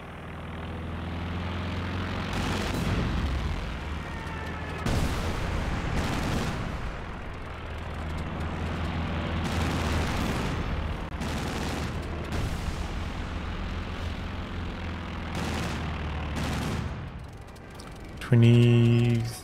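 Quad anti-air guns in Company of Heroes 2 rattle off repeated loud bursts of rapid fire over a droning aircraft engine, with several sharp volleys spaced across the stretch and a brief tonal blast near the end.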